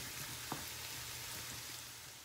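Onions with turmeric fry in oil for a fish vindaloo, making a soft, even, faint sizzle and one small clink near the start, with no talk.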